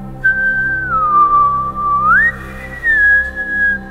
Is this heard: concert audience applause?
no